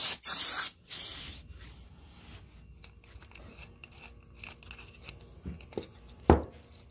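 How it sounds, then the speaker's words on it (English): Parts washer cleaner sprayed onto the oil level sensor of a Yamaha Virago 1100 motorcycle engine: a loud close hiss in two short bursts, followed by quieter handling clicks and a sharp knock near the end. "Hit this with some mobile parts washer."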